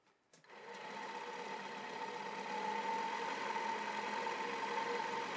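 A wood lathe running steadily near 600 RPM as a 1/2-inch bowl gouge cleans up the walls of a segmented ripple bowl, a constant loud hum with a faint high whine and no breaks.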